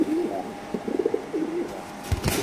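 Young racer pigeons at a pigeon farm coo in repeated soft throaty bursts, close by, followed by a brief louder rustle at the end.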